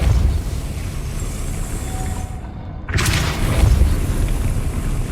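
Depulso force spell cast in the video game Hogwarts Legacy, a loud whooshing, booming burst that follows a brief dip in the low, rumbling ambience and then keeps rumbling.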